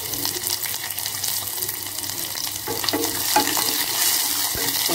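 Three small shallots sautéing in hot oil with fenugreek seeds for okra sambar, a continuous loud, bright sizzle with occasional stirring scrapes, close and without talk.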